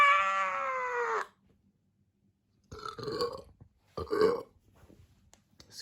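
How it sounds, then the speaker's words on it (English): A short throaty burp follows a higher whining voice, two close grunting bursts in a quiet room. "Ah, that was me. I burped."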